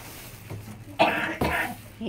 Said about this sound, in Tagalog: ubo talaga siya